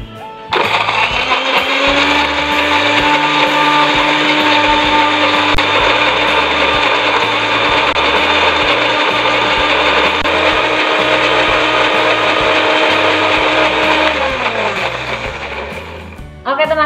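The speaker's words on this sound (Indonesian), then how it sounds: "dan blender bumbu sampai halus." An electric blender grinds garlic, shallots, candlenut, galangal, ginger and turmeric with a little water into a smooth spice paste for chicken, a loud steady whirring motor running continuously for about fourteen seconds before winding down.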